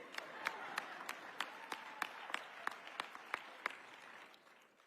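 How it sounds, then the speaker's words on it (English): Slow, distinct handclaps from a small part of the audience at an MLK dinner, a dozen or so sharp claps in a steady rhythm over a faint background wash, fairly quiet and distant. "They can clap for me."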